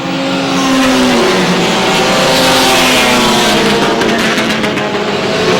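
Race cars screaming past at close range, several engines overlapping and shifting pitch as they sweep by, loud and continuous with no voices.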